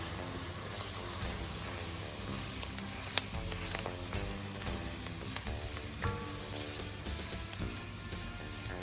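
Flour cooks in butter in a pan for a chicken pot pie roux, giving a soft, steady sizzle with occasional sharp ticks and spoon scrapes against the pan, fairly quiet and with no talk.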